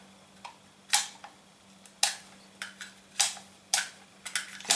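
Polymer magazine repeatedly sliding in and out of a Fab Defense Scorpus PS 9 pouch, giving a series of about ten sharp, close clicks and scrapes spaced irregularly over a faint steady hum.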